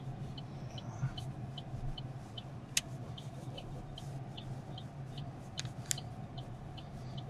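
A car driven during a driving lesson: a quiet, steady interior engine and road drone with a few faint clicks and ticks scattered throughout.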